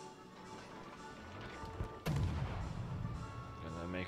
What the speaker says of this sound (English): Well, we might as well shoot.